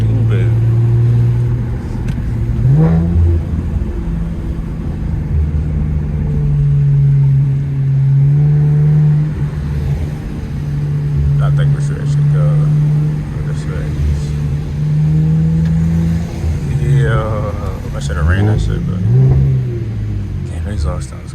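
An Infiniti Q50 fitted with new intakes and a downpipe drives at night, its engine droning loud and steady with rising revs and a few louder surges, while a person talks over it.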